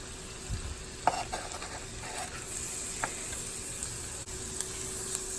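Onions and garlic frying in a pan, a steady broadband sizzle with occasional clicks and scrapes of stirring, close and alone without any talking.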